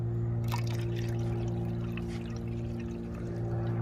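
Kangen water poured in a small amount, a soft steady trickle of liquid running for a few seconds over a constant low electrical hum, with no talking.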